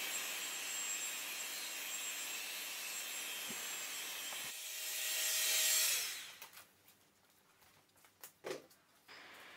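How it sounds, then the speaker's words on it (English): A heat gun on its high setting blows over epoxy resin beach art with real sand, a steady rushing hiss that swells, then cuts off, leaving faint scattered handling noises. "zap it with a high setting on the heat gun"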